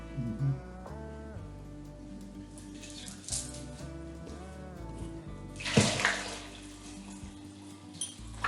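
Water runs from a tap into canning jars packed with fresh green beans and Himalayan salt, filling them in a steady pour that rises and splashes louder near the end, with light clinks along the way.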